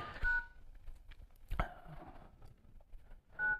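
Keypad tones from an Android phone dialer running Origin OS sound as single short beeps, spaced apart with handling clicks and quiet background between them.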